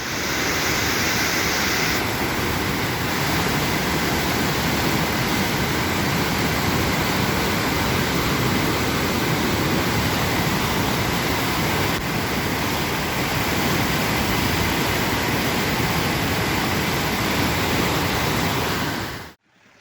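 Krueng Batee Iliek river in flood at Samalanga, Bireuen, its swollen torrent rushing in a loud, continuous roar of churning water that holds steady throughout.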